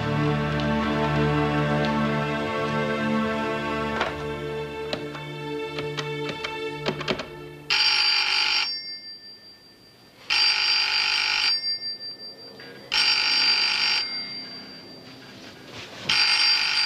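A telephone rings in a late-1980s German TV drama, first faint tones under background sound, then three loud, near, evenly spaced rings separated by short silences, with no talking.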